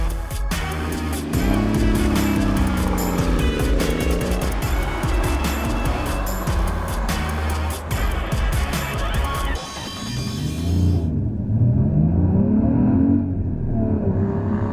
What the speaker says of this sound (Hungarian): Annyira gyönyörű hangja van egy Porsche-nak.